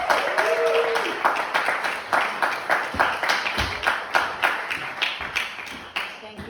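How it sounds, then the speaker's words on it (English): Audience applause at a poetry reading launch event, a steady wash of many hands clapping for several seconds with sharp individual claps standing out, fairly close and filling the room. "Give her a big round of applause."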